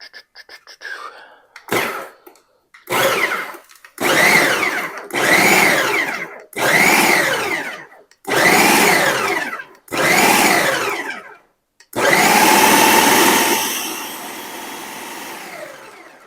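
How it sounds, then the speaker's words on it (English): Food processor pulsing chilled butter into flour for an all-butter pie crust: seven short, loud bursts of whirring motor with brief pauses between them, then one longer continuous run that gradually tapers off. "now let's pulse this. You want it to be, the butter to be the size of a pea,"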